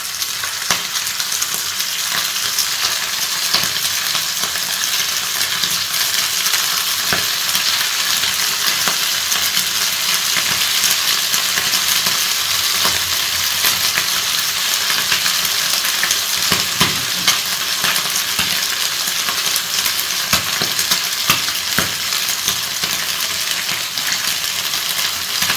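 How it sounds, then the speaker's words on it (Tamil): Chicken pieces deep-frying in hot oil for street-style chicken fried rice, giving a steady, dense sizzle and crackle that runs unbroken throughout, close and fairly loud with no talking. "நம்ம சிக்கன் ஒன்று ஒன்றா போட்டு பொரிச்சு எடுத்துக்கலாம்"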